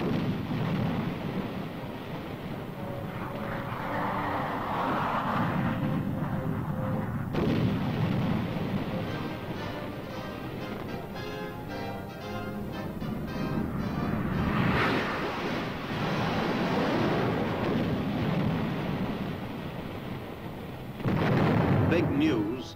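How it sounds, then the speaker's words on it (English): Napalm bomb demonstration explosions of jellied gasoline: deep, rumbling blasts roll out in a long continuous roar, heavy booms echoing from a distance with crackling noise through them. "This group is watching a version of the napalm bomb, jellied gasoline that cuts down everything in its path."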